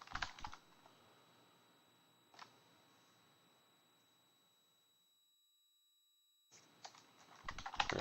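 A computer keyboard is typed on while playing The Wizard and the Princess on an Apple II, a few clustered key clicks at the start and a quick burst near the end, separated by a quiet stretch with a faint steady tone.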